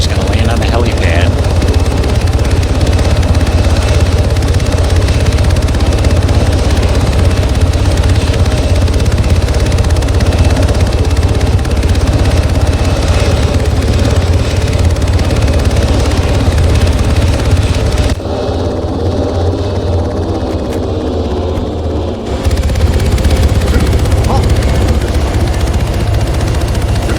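A video game helicopter sets down on a helipad with a loud, continuous rotor thrum and engine drone filling the scene. The drone dips briefly near the end before resuming, and a voice talks over it.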